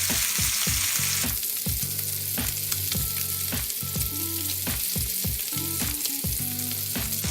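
Ribeye steaks sear loudly in a hot pan, a steady crackling sizzle with rhythmic scraping and clatter throughout.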